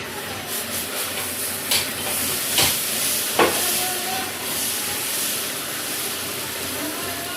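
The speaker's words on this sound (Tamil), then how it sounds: "இப்போ இந்த சட்னிக்கு ஒரு சூப்பரான தோசை ஊற்றிக்கலாம்" Dosa batter hits a hot pan and sends up a loud, steady hiss and sizzle, with a few brief louder bursts early on before it settles into a constant frying sound.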